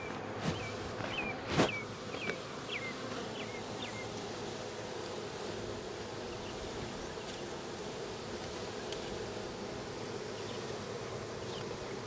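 A honey bee swarm hums in a continuous low drone outdoors during a swarm catch. Faint, with scattered chirps and a brief rustle or bump early on.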